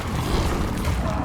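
An Incendio fire spell is cast in Hogwarts Legacy, giving a steady, low, roaring rumble with a soft whooshing texture that carries evenly through the moment.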